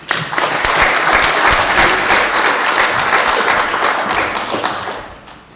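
Audience applause greeting a speaker introduced at an oceans and sustainable sea lecture, a steady loud wash of clapping from a crowd that holds for about five seconds and then fades out.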